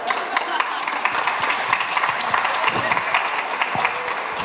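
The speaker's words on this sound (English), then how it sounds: "Got applause for that" A crowd at the Cork LGBTI+ Awareness Week launch breaks into applause, with sharp, uneven individual claps standing out over a steady bed of clapping.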